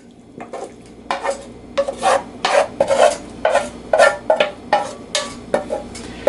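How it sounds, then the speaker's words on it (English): Onion mixture stirred into pasta in a worn skillet over medium-low heat, a steady series of rough scraping strokes, close and fairly loud, with no talking. "Now we're going to add the onion mixture to the pasta."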